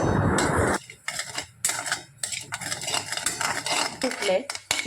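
Semolina roasting in ghee in a pan is stirred with a metal spoon, giving scraping, clinking strokes in an irregular rhythm after a brief hiss at the start, close and fairly loud.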